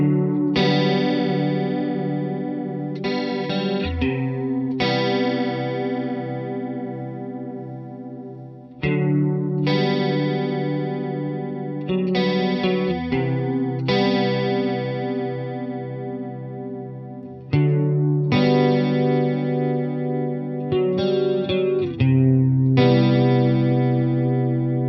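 An electric guitar played through a DOD Ice Box chorus pedal rings out in sustained chords and notes with a shimmering, wavering chorus sheen, each strum decaying before the next.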